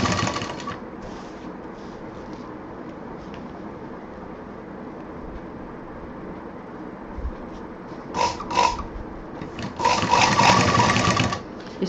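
Sewing machine stitching pearl lace onto a handbag, a fast rattling whir that runs almost continuously before stopping, then starting again in short bursts near the end.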